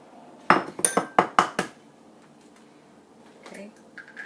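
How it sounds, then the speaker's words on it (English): A whisk beats vanilla and egg whites in a bowl for low-fat peach banana bread, a quick cluster of sharp metallic clinks against the bowl followed by quieter faint handling, close up. "Add vanilla and egg whites and whisk again."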